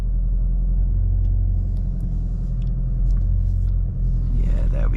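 A VW Golf R MK8.5 Black Edition creeps slowly through a muddy puddle, its low engine rumble steady and close throughout, with a brief splash near the end and speech over it.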